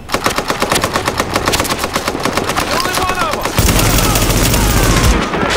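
Gunfire from The Division, played at World Tier 5, rings out in a fast, steady burst of loud shots, then gives way to a dense, booming rumble of heavier fire near the end.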